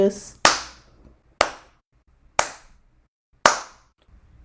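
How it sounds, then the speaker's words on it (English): Four sharp hand claps ring out about a second apart, each followed by a short room echo. "You can also shift up just walking through your home, clapping"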